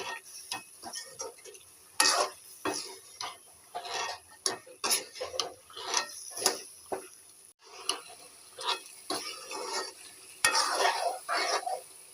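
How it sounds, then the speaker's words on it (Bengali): Goat meat being sautéed in a pan, with repeated scraping stirs of a utensil against metal over a steady sizzle, loud and close, in irregular bursts without any talking. "এখন মাংস কষানো হচ্ছে"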